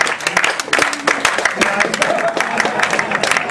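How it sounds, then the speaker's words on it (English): Loud, brisk clapping from a small crowd at a pre-event MMA press conference, with a voice talking over the applause throughout. "Round of applause for these two warriors."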